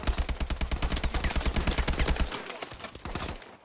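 Rapid bursts of automatic gunfire from a legendary gun in a first-person shooter video game, loud and close, with a brief pause before the firing resumes.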